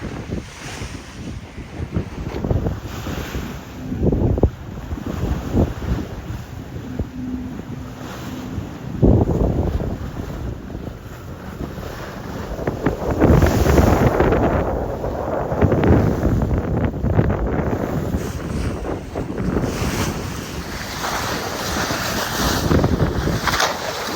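Steady wind rushes and buffets over the tall ship Lynx under sail, with surging gusts and water wash around the hull, loud and continuous with close microphone buffeting throughout.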